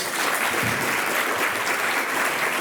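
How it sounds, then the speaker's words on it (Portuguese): Steady, dense applause from a church conference audience honoring pastors, continuous and fairly close with no talking over it. "Uma salva de palmas para esses pastores"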